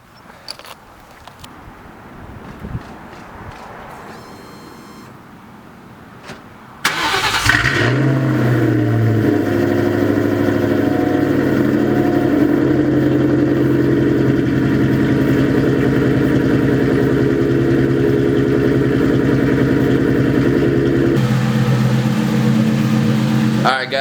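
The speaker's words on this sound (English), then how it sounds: "Let's get a cold start." A 1996-2004 Mustang GT with the 2V V8 cold-starts after a few seconds of quiet handling noise, cranking and catching into a loud, steady high idle that settles slightly lower near the end, close to the car.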